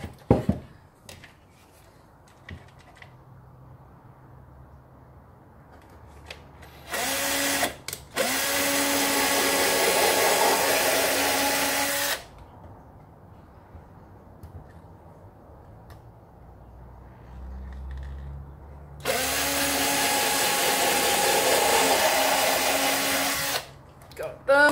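Power drill pre-drilling nail holes in an old wooden box, with two loud, sustained bursts of whining motor separated by quieter pauses and handling noises; no talk.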